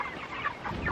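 Chickens cluck and murmur close by in short, overlapping bursts, a busy little flock sound with no talking.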